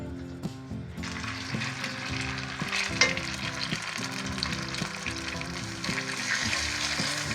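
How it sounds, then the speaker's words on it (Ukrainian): Potato pancakes sizzle steadily in lard in a hot pan, crackling and spitting continuously with occasional scrapes and clinks, no talking. "І починаємо смажити здоровенько."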